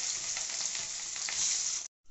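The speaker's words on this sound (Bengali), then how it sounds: "মাছটাকে প্রথমে আমরা ভেজে নেব" Fish pieces frying in hot oil with a loud, continuous close sizzle and crackle that runs unbroken, then cuts off abruptly near the end before briefly resuming.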